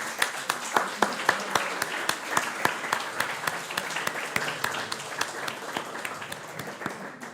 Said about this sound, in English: Please, a hand of applause for all the mentors.